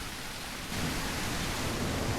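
Falling water and rain in The Isle, a dinosaur survival game, hiss as a steady broadband wash that grows louder partway through, with a low rumbling undertone and no voices.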